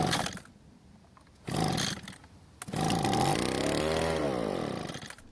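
A small leaf blower engine given fuel in the carburetor throat sputters in short bursts, then catches and runs loud and continuous, its pitch rising and falling as it revs.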